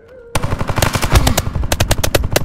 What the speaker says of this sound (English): Yeah, you can hear the shot.